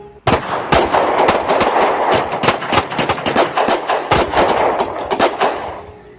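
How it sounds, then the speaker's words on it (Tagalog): Gunfire crackles in a sustained battle sound effect for a wartime story, rapid overlapping bursts of shots like machine-gun and rifle fire, loud and dense from start to finish. "Muling umalingaw-ngaw ang putukan."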